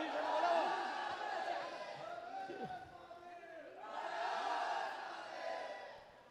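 A school annual-function audience roars and cheers in a sustained, loud swell of massed voices, dipping briefly midway before surging again, with shouts rising above the din.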